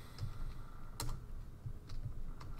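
Typing on a computer keyboard in a quiet room, with a few scattered, fairly faint key clicks over a low background hum.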